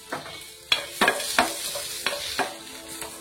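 Bottle gourd sautéed lightly in a pan with coconut and garlic for chutney, giving a soft frying sizzle broken by several sharp scraping stir strokes, close and fairly quiet, with no talking.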